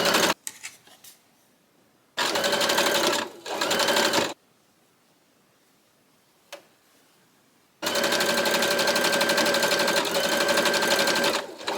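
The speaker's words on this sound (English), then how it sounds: "So I'm just pushing that out the way while I stitch this side of the casing." A sewing machine stitches a drawstring casing on a garment sleeve in three close, rapid bursts of mechanical chatter, the last one long and steady, with quiet pauses between.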